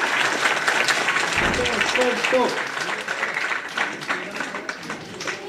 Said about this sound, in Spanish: ¡Más fuerte el aplauso a los DNG!